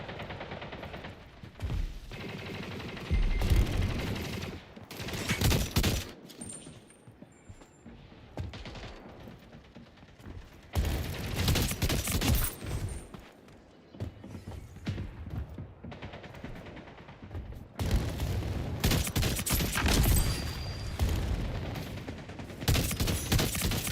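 Rapid bursts of automatic gunfire from the video game Splitgate 2, loud and repeated in dense volleys with short gaps, continuing throughout.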